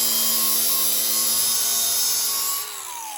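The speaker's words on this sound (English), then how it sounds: "I am inside of my garage flinging sparks in a direction that I probably should not be flinging sparks" A power tool grinds metal in a garage, giving a loud, steady high-pitched whine with a sustained hiss. It cuts off abruptly near the end, leaving a fainter spin-down tone.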